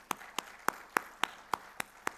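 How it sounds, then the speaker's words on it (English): At an international conference on women and university leadership, clapping for Princess Noura University comes as eight sharp, evenly spaced claps in a quick, steady rhythm. It is faint and close, with nothing else in the background. "So a big clap for Princess Noura University."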